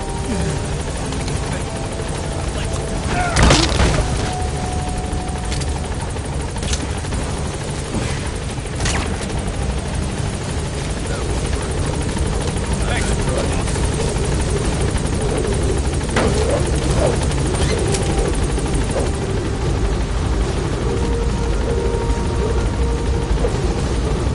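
P-Quad helicopter in the video game Metal Gear Solid V: The Phantom Pain holds a loud, steady rotor drone throughout, broken by a few sharp bangs near the start.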